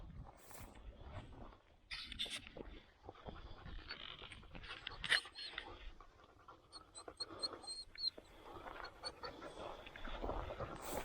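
Hunting dogs pant quickly and repeatedly nearby after a rabbit hunt, with rustling movement and a few faint whimpers in the quiet outdoors.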